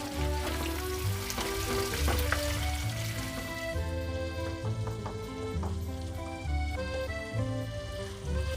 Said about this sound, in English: Lower down the flame and let the tomatoes get tender